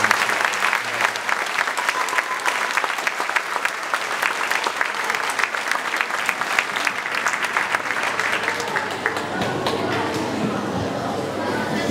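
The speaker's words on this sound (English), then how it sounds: "Can we have one last big round of applause for all of our amazing" Sustained applause from a crowd at a Year 6 school graduation, dense clapping filling the whole stretch, with some voices and cheers mixed in.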